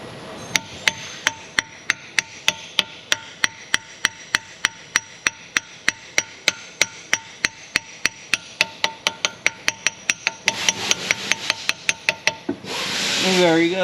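A flange is tapped into place during a rear leak repair with sharp, evenly spaced metallic taps, several dozen in a steady rhythm, close and loud, quickening near the end before a brief scraping rustle.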